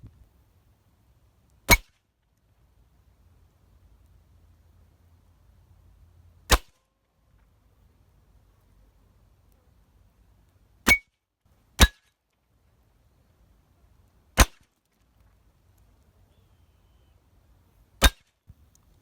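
Six sharp, isolated .22 rifle shots spaced several seconds apart ring out at 20 yards toward steel, aluminum and copper targets, each a crisp crack against near silence.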